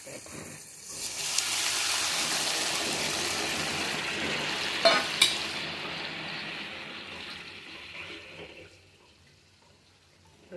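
Chana dal and spinach sizzling as they are stirred in a pan, a steady broad frying hiss that builds and then fades, with a couple of brief sharp clatters midway and no talk.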